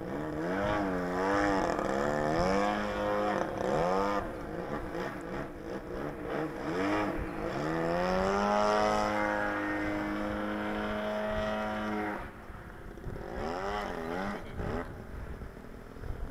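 A small gas engine buzzes continuously, its whine rising and falling in pitch as an Extreme Flight RC model airplane swoops past, loud and close.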